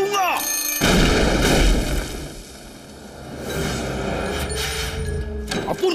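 A cartoon explosion blows up the cat in a Hindi-dubbed Oggy episode: a loud, broad boom bursts out near the start and lingers for about a second over a busy cartoon soundtrack, with voices around it.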